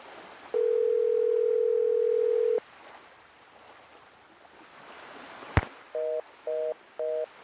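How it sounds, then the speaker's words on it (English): A cell phone dial tone in the Nancy Drew video game Danger on Deception Island sounds as a steady two-second tone, followed after a sharp click by three short repeated beeps, with a faint watery background. "Use my cell phone to check in with Bess and George."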